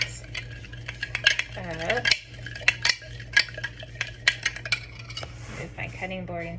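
Metal utensil scraping and clinking against a pan while vegetables and sausage with pepper are stirred together, a steady run of close, sharp taps and scrapes with a low hum underneath.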